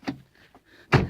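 Door of a 2001 Chevy Silverado after a repair: a short clunk as it opens, a faint rattle, then a louder solid thud as it shuts, close and brief.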